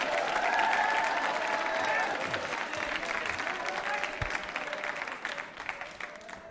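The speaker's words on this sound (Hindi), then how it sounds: "तालियां जोरों से बजाइए इनके लिए" Quiz show audience breaking into sustained loud applause mixed with some cheering voices, a dense wash of clapping that gradually thins toward the end.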